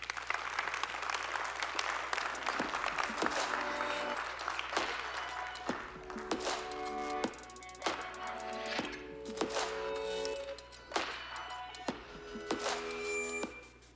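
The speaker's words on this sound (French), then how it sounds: "Sous vos applaudissements, s'il vous plaît." Sustained audience applause fills a conference plenary hall as speakers, including a former Apple vice-president, are welcomed on stage, with dense clapping throughout and brief musical tones mixed in.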